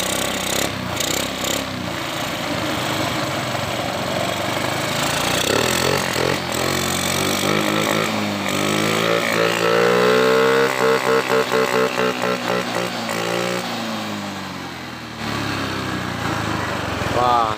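A Honda Beat scooter engine that has been converted from fuel injection to a carburetor runs close by with an uneven, revving putter, surging and dipping in pitch, while people talk over it.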